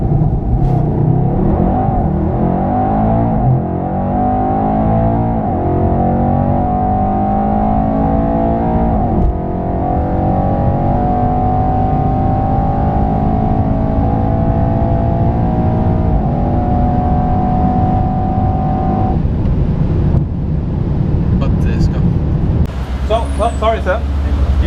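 A Mercedes-AMG E 63 S 4matic+ sedan with 612 hp is driven hard on the Portimao race track, its engine rising and falling loudly through gear changes. Talk carries on over the engine throughout.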